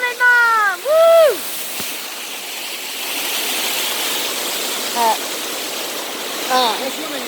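A waterfall makes a steady broadband rush that sounds close, while voices call out and talk over it at moments.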